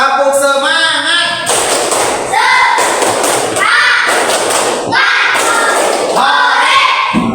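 Madrasah schoolchildren performing a rhythmic spirit clap in class: bursts of loud, close claps and thuds in patterned groups, interleaved with kids' shouting voices.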